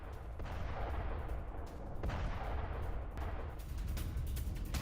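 Artillery fire in residential areas of southern Lebanon: a loud, continuous rumble with dull repeated blasts and broad noise, steady throughout with no speech.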